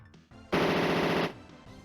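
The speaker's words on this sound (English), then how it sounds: "Use your Gatling gun, start laying down Same amount of fire" Gatling gun fire from the video game Power Dolls: one dense, loud burst of rapid rattling shots lasting just under a second, set between quieter game sounds.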